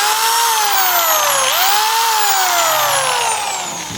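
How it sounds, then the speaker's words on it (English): A high-pitched power drill porting Magnum cylinder heads whines loudly and continuously, its pitch dipping and rising as it grinds against metal, before easing off at the end. "I much prefer the drill."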